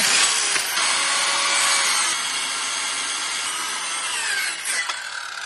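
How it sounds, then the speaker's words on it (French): Circular saw cutting wood-effect lino flooring inside a van: a loud, continuous harsh grinding whine close by, sustained for several seconds with slight shifts in pitch and load as the blade moves through, no talking. "on a pris la scie circulaire pour le lino"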